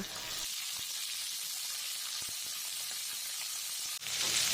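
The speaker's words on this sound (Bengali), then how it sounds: "তেল গরম করে পেঁয়াজকলিগুলোকে ভেজে নেব" Steady, dense sizzling of spring onions frying in hot mustard oil, with occasional soft clicks of stirring and a brief surge of hiss near the end.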